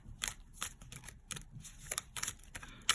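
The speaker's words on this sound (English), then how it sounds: "Try not to shuffle so much." Tarot cards are shuffled in soft, crisp riffling bursts that repeat every half second or so, quiet and close, with no voices.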